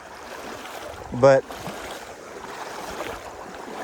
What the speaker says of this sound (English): this part's always cooler because you got the running water and stuff